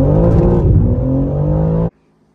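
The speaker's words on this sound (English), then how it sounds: "let's do a first gear pull because I've never done one" Loud engine roar of a BMW G80 M3 accelerating hard in first gear, pitch climbing steadily before cutting off abruptly into near silence.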